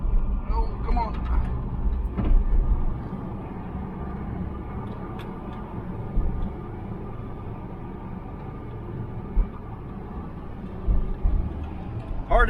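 An old, long-abandoned truck engine pulls in third gear, giving a steady, heavy low rumble that swells slightly near the end, with a voice briefly audible over it.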